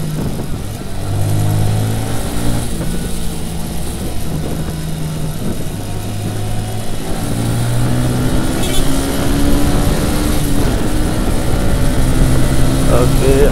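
A motorcycle engine on a busy road drones loudly and continuously as it revs toward top speed near 10,000 RPM, its whine climbing steadily in pitch over the whole stretch.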